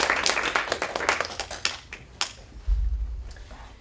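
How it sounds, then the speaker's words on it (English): Scattered handclaps from a small audience at a university talk, loud at first and then thinning out to a few claps, with a low thump near the end. "So if we can have a round of applause"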